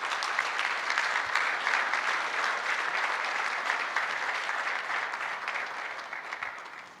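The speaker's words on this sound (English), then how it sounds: "please, another round of applause as we award the minister" Sustained audience applause at an anniversary gala, a dense wash of many hands clapping that stays loud and gradually tapers off over several seconds.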